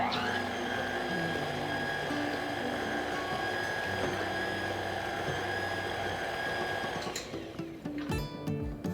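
A stand mixer beating banana bread ingredients: a loud, continuous motor whir with a steady mechanical drone that holds for about seven seconds, then winds down into rattling clicks as it stops.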